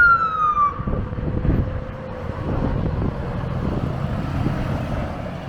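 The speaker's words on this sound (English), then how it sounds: "We've got a fire engine." A fire engine siren wails briefly at the start, falling in pitch and fading, followed by rumbling traffic and engine noise nearby.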